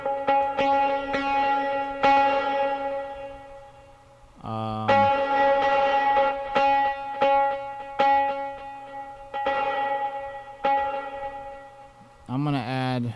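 Electric guitar with its built-in reverb playing plucked soca-style notes that ring and decay into a washy tail, interrupted twice by quick bending slides, fairly loud and alone.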